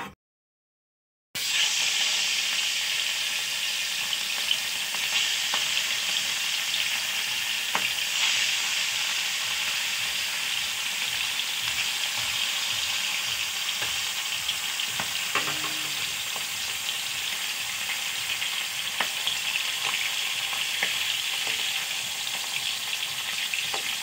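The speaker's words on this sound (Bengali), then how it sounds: "মাছ ভাজবো।" Fish frying in a pan, a loud continuous sizzle and hiss that starts abruptly after a short silence and holds steady, with faint stirring clinks.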